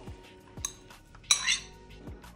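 Metal utensils clink and scrape against a dish as grated beetroot is mixed into a salad, a few quiet clatters with one brighter clink in the middle, close by.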